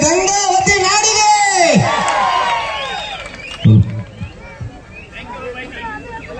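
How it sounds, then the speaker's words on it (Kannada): A crowd at a stage folk music and comedy show in Gangavathi cheers and whoops loudly at first, then the noise fades into scattered voices and hubbub. "ಬರ್ಲಿ ಜೋರಾದ ಚಪ್ಪಾಳೆ ಗಂಗಾವತಿ ನಾಡಿಗೆ."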